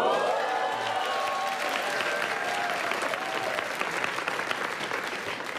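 Steady, dense applause from a crowd fills the whole stretch, loud and even with no pauses.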